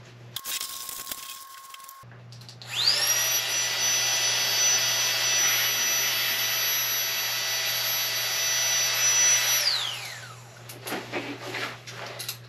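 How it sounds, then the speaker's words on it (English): A Neo Air Topo Luxe sleeping pad being inflated with a pump sack: a steady rushing, hissing airflow that holds for about seven seconds before tapering off, with faint handling rustles around it. "we'll probably try pumping it up with the pump sack"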